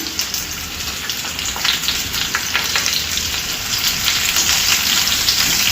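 Raw mango pieces with a little turmeric fry in a pan for a sweet mango curry, giving a loud, steady, close sizzle that keeps building slightly, with no talking.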